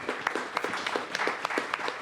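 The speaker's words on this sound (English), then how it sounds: "I'm going to clap for that" A small audience claps after prepared opening remarks at a discussion on tariffs and trade, a scattered, uneven patter of hands for about two seconds with no voices over it.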